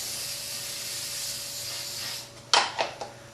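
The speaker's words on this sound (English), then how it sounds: "shake up the temporary spray adhesive, and go ahead and just give it a pretty good coat" Temporary spray adhesive hissing steadily from an aerosol can as a paper pattern is coated for scroll saw work, the spray then stopping and followed by a few short, sharp clicks or rattles close by.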